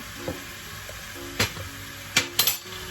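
Flour being stirred into a sizzling pot of Basque-Hungarian beef stew: a steady soft sizzle broken by a few sharp scraping and clinking strokes of the spoon against the pot, with no talking.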